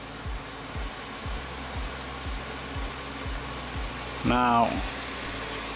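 A car engine idles with a regular low thumping pulse, then the revs briefly rise in a short climbing whine as someone speaks.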